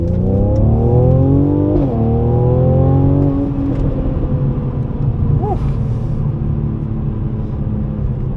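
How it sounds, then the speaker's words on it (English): Mercedes C43 engine and exhaust with the Sports Plus valves open, loud and close inside the cabin, revving up through rising gears with a shift near the start, then settling into a steady drone. "the car is pretty loud, to be fair. It's only 362 brake, but in the Sports Plus setting, it opens the valves"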